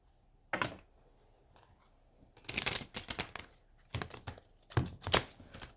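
A deck of true crime trading cards is handled and shuffled. A single riffle is followed by a burst of rapid flicking and slapping, then several more short shuffling bursts, all close and fairly quiet.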